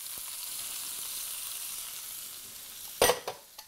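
Steady close sizzling in a frying pan, then a burst of louder crackle and clatter near the end as food is dropped in.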